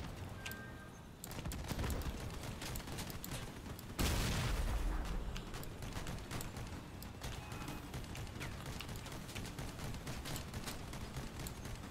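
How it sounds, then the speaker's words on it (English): Rupture shotguns fire in the vehicle combat game Crossout, with a dense continuous roar of rapid blasts and a heavy boom partway through, loud and sustained throughout. "they're pretty strong, these shotguns"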